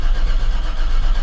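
A 1968 Chevy C10 pickup engine cranking over with a steady, loud, dense rumble and churning throughout, up close, with no voices.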